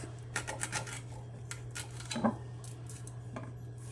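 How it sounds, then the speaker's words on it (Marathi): Drumstick (moringa) pods are cut into small pieces, with soft, irregular knife taps and clicks over a steady low electrical hum and no talking. "अशा प्रकारे सर्व शेंगा घेता कापून घेणार आहे असे तुकडे करून घेणार आहे"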